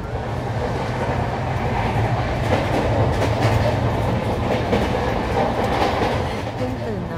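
An Indian Rajdhani Express passenger train runs on its rails with a loud, continuous rumble and a steady clickety-clack of wheels over the track joints, heard from inside the carriage.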